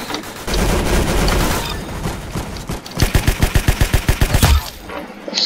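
Rapid gunfire rattles through a first-person shooter match in the game Arsenal, an early dense burst followed by a quick rhythmic volley of about a dozen loud, evenly spaced shots.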